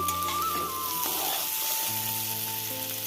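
Potatoes sizzle in a pan for sabudana khichdi, a close, steady frying hiss with brief stirring scrapes and no talk.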